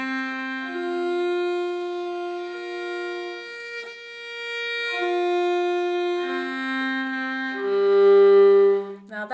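Viola playing a warm-up exercise in fourths, sustained bowed double-stop notes changing every couple of seconds, clear and close with no talking.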